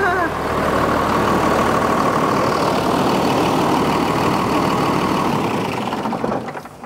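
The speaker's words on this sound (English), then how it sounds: "we got their engine running" The diesel engine of a scrapyard bucket truck idles loud and close after being brought back to life, a rough steady knocking rumble that holds for several seconds before easing off at the end.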